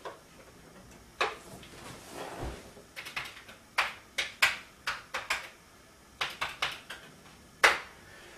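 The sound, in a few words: Commodore 64 floppy disk loading The Last Ninja 2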